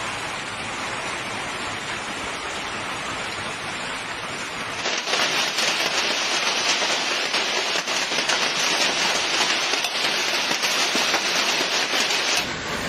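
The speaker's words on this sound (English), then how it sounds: "hail began to fall, mixed with heavy rain," Heavy rain mixed with hail pours down during an evening hailstorm in Beijing, a steady dense roar of drops that grows louder and fuller about five seconds in and holds close and continuous, with no voices.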